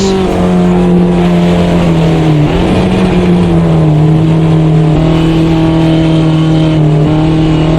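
A race car engine in the Automobilista 2 game drones loudly and steadily on a wet track, its pitch dipping briefly before holding a sustained roar, with no speech.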